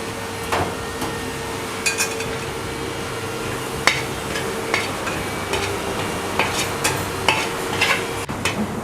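Spice powder being stirred and sautéed in coconut oil for a Kerala-style beef roast masala, with a steady low sizzle under repeated sharp scrapes and taps of a spoon against the pan, close and moderately loud, no voices.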